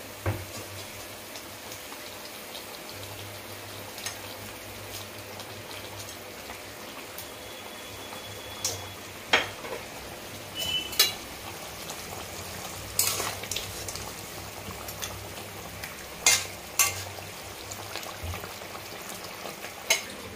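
Spiced masala for a katla fish curry fries in oil as a small splash of water goes in, giving a low, steady sizzle with scattered sharp crackles and pops over about twenty seconds.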